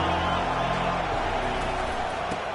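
Steady roar of a packed stadium crowd at an Arkansas college football game, a broad, constant wash of noise held at an even level with a faint voice underneath.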